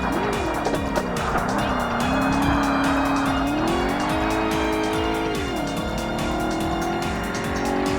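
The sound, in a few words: racing cars and tire squeal in video game Forza Motorsport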